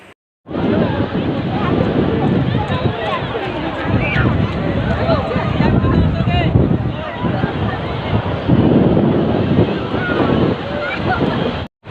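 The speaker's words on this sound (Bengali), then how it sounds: "আমরা চলে এসেছি সমুদ্রের ধারে" Sea waves and wind at the seashore, with steady surf washing in and gusts buffeting the microphone throughout, loud and close, and people talking over it.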